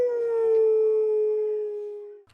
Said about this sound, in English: Werewolf awoo